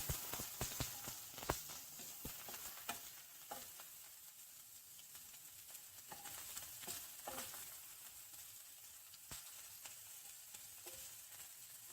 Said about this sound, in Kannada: ಇವಾಗ ಈರುಳ್ಳಿ ಎಲ್ಲ ಚೆನ್ನಾಗಿ ಫ್ರೈ ಆಗಿದೆ